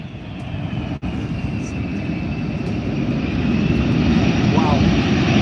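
A military transport aircraft, the C-17, makes a short landing at the Arctic Thunder airshow in Alaska: loud, steady engine roar growing slightly louder, with an announcer talking over it.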